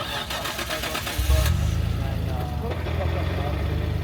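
A Nissan Skyline R34 GT-R with a six-speed transmission, its engine catching and settling into a close, steady mid-pitched hum and whine after a few rattling clicks; people talk nearby.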